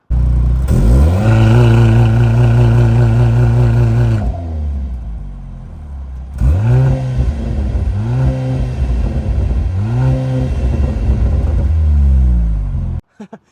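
Exhaust of a 2024 Mercedes C43 AMG four-cylinder, heard up close from the rear: one long loud rev held for several seconds, then a dip and three rising blips in a row.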